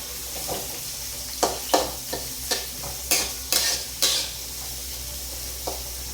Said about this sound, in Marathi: आता मस्तपैकी आपण कांदा परतून देणार आहोत